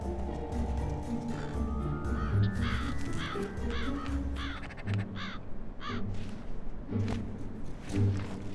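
Crows caw loudly and repeatedly in harsh, overlapping bursts while feeding beside a buzzard. Dull thumps and scuffling sound beneath the calls.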